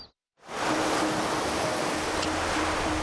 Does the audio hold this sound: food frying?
no